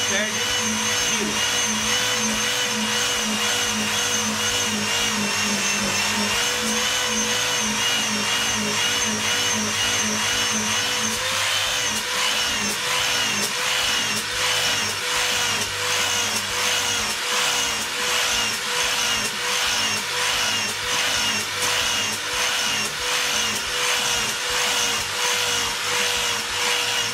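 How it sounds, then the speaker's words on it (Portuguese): A brushing and polishing machine at a LINE-MATE virtual trade booth runs steadily under pressure, a continuous loud motor whine with buzzing abrasive contact that holds speed throughout without dropping off. "Posso pressionar a máquina, ela não perde giro."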